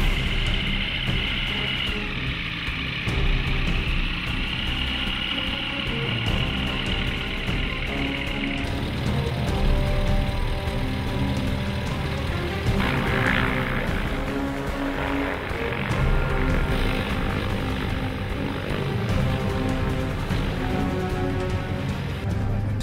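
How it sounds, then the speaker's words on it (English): A propeller plane at an air show comes in to land after an aerobatic manoeuvre, its engine droning steadily and fairly close as the power eases back over about twenty seconds of continuous noise. "power coming back as he came into land and was landing off an aerobatic manoeuvre"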